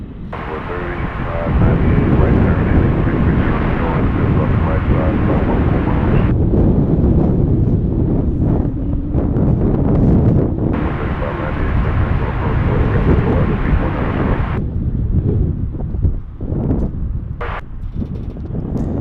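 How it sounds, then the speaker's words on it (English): A Boeing 767 taxis in at Dallas Fort Worth airport, a loud, steady jet-engine roar close by with gusty wind buffeting the microphone throughout. "taxiing in on that 767"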